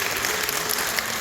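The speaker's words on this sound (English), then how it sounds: "let's give them a round of applause" Loud, dense applause from a crowd at a Kappa Alpha Psi celebration, continuous and even throughout the short stretch.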